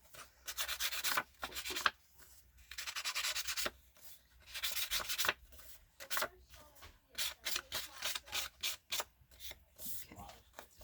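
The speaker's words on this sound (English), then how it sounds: "I am going to distress these pages a little, especially down the side." Paper journal page edges are distressed by rubbing, a dry scratchy sanding sound in long strokes, then quicker short bursts, close and faint.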